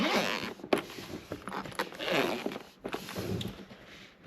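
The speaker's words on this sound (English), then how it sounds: "let's go ahead and unzip it" Zipper on a Lenovo Legion Go carrying case being pulled open, close, in several rasping strokes with brief pauses between them and no talk.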